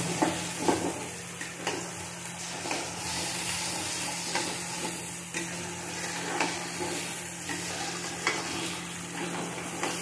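Ginger, green chili and tomato paste frying for egg curry, a steady low sizzle with periodic spatula scrapes roughly every second, close and moderately quiet, no speech.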